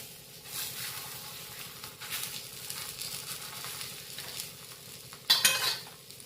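Oil sizzling on a thalipeeth, a Maharashtrian flatbread, as it cooks in a pan: a soft, quiet crackle and sizzle with faint scraping, ending in a brief sharper burst of spattering.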